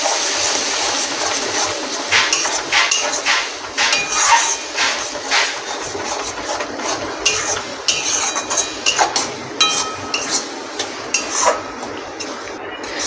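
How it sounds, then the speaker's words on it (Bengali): Ridge gourd paste being stirred in a pan for a prawn bharta, with a long run of busy metal scraping and clinking of a spatula against the pan, fairly loud and continuous with sharp knocks throughout. "আমি এবার ঝিঙে পেস্টটা দিয়ে দেব, দিয়ে আরও ভালো করে 10-15 মিনিট নেড়ে নেব।"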